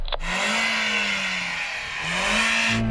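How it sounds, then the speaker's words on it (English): A 2-litre Audi car engine revs in two long rising-and-falling swells, loud and close, with a steady mechanical roar throughout and no talking. "Rory, let's have a listen to your Audi 2 litre."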